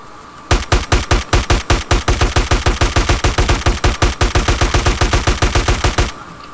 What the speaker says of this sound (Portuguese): Dá o tiro de M4 que eu vou ficar atirando